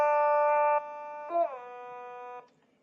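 A single sustained buzzy electronic tone from an otamatone holds one pitch, then swoops upward in a quick slide to a new note and holds it before cutting off.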